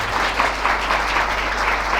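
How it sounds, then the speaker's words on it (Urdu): A church congregation claps loudly and steadily during a Sunday service, a dense, continuous wash of applause that fills the whole stretch with no voices standing out. "آئیے اپنے زندہ خدا کے لیے زوردار تالی بجائیں۔"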